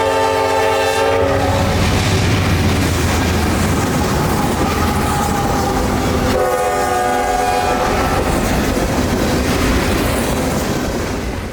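CSX L700 Juice Train, the Bradenton Local serving Tropicana, rolls past loud and close with a sustained horn blast over constant rumbling wheels and rail clatter.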